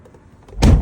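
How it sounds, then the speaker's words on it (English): A 2024 Mercedes Sprinter van door is opened, giving a sudden loud latch clunk and rush of sound near the end after quiet, close up. "Open the door."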